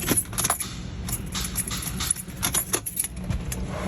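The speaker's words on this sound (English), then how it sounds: "I'm just getting a click." Car with a starting problem and a battery that is not dead, its key turned in the ignition: keys jangle and a series of sharp, dry clicks come from the starter or relay in place of cranking, close and fairly quiet.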